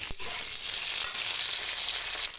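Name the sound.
pointed gourd (potol) frying in oil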